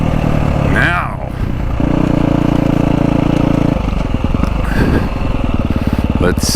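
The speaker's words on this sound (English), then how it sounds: "let's see how the stock KTM runs" Stock KTM 350 XC-F/SX-F four-stroke dirt bike with its stock exhaust, running loud and close with a throttle blip early, then a steady barky idle and revving, uneven pulses throughout.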